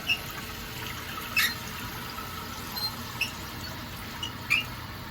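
After the valve is turned on, a toilet tank refills with a steady, moderate hiss of running water, broken by a few faint squeaks and drips, close by with no talk.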